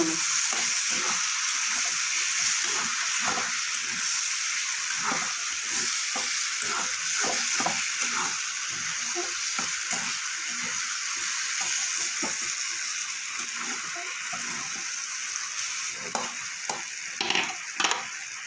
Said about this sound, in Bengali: এবার আলুর সাথে সমস্ত মশলা মিশিয়ে